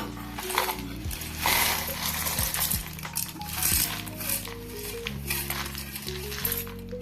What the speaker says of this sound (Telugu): ఇవి మిక్సీ జార్లో వేసేసుకుందాం మన పప్పులు ఎండుమిరపకాయలు అన్నీ వేసేసుకుందాము